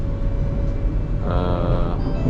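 Steady low rumble and hum inside a fast airport express train travelling from KL Sentral to KLIA2 in Malaysia, with a brief brighter whine partway through, continuous and close around the listener.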